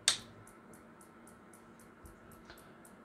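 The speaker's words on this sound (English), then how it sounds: "It's the high voltage discharging to the screen." A Macintosh Plus CRT's high voltage discharges to the screen, giving a faint series of evenly spaced, bird-like chirps that repeat roughly every quarter second over a quiet background hum.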